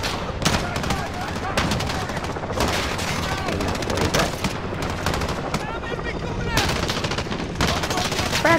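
Heavy, continuous gunfire and explosions fill a shooter video game campaign, with rapid automatic bursts layered densely and almost no pause throughout, while a voice talks underneath.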